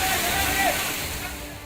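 Floodwater rushes along Mall Road in Nainital, a continuous broadband roar and slosh of fast-moving water that stays steady and fairly loud for the whole stretch, with faint background voices possible.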